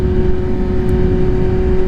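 Kawasaki Z900 motorcycle running with its airbox removed, a loud, steady engine drone with a constant whirring tone and no speech.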